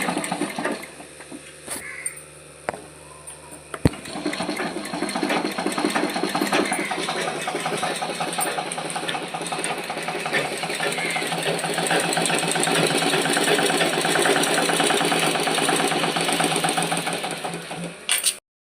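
A Merit sewing machine stitches continuously at close range, a steady rapid mechanical whirr and clatter running nearly twenty seconds after a few isolated clicks at the start, with no talk.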